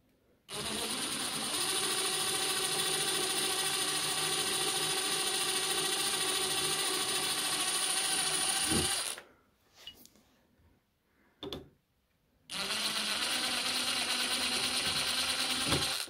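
A drill bores through cockpit glazing in a steady, loud whirring run, stops briefly with a short burst in the gap, then resumes at the same pitch.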